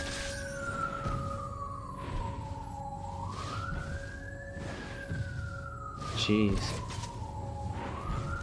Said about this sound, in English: Trying to record something here and they're blasting their sirens.